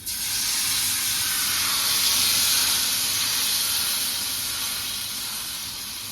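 Bottle gourd dosa batter sizzles on a hot pan, a steady, loud, bright hiss holding alone for several seconds and fading slightly at the end.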